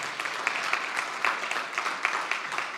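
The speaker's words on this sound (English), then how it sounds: "So perhaps we could have a round of applause to acknowledge all of their amazingly hard work." An audience at a conference opening session gives a round of applause for the member hosts, brisk scattered clapping from a modest crowd with individual claps audible in the mix.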